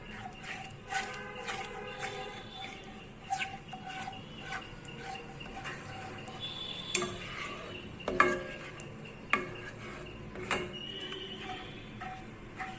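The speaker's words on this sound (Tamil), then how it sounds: "இப்போ இப்படியே கலந்து கொடுத்துக்கிட்டே வந்தோன்னா உங்களுக்கு நல்லா கட்டிப்படாமல் கிளறணும்." Spoon stirring a thickening vegetable fruit jelly mixture in a pan, with repeated scraping clinks against the metal in a steady uneven rhythm, fairly faint, with kitchen noise behind.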